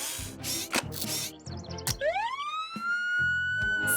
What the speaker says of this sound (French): C'est comme ça qu'une sirène doit sonner.